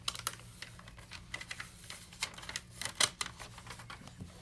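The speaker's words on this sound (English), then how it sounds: "Then I use a bone folder." A bone folder presses down the edges of a book cover, making a run of faint, irregular clicks and light taps up close, with soft scraping between them and no talk.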